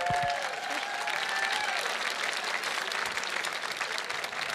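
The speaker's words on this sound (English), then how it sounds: "Let's give another round of applause." Sustained applause from a gala audience for the Adventure with Purpose honoree, a dense even patter that holds steady throughout, with a faint tone and murmur early on.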